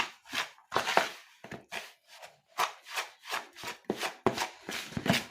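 Hands work flour and oil together into maandazi dough, producing close, rhythmic rubbing and squishing strokes in short repeated bursts, about a dozen passes with brief pauses between them.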